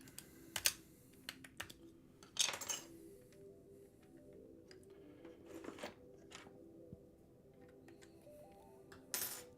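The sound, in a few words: typing on Yunzi AL71 custom mechanical keyboard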